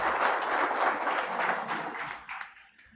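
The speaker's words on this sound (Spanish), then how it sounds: "Para él nuevamente pido unos fuertes aplausos," Audience applause at the opening ceremony of a criminal-law lecture series, a dense, steady clapping that holds for a few seconds and then thins out and fades near the end.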